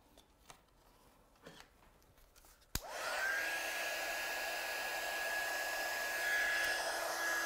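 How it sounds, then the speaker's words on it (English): A heat tool blows steadily to heat-set embossing powder on a stamped card, a sudden click at switch-on giving way to a constant loud whirring hiss with a thin whine, after soft shuffling and handling noises. "Just put this embossing powder back. And then we'll heat set this one."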